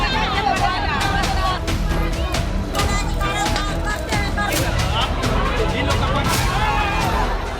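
A large crowd of protesters fills the streets of Darbhanga, Bihar, demonstrating over a child's rape and murder, a dense, continuous roar of overlapping voices and shouts at steady loudness, with traffic noise mixed in throughout.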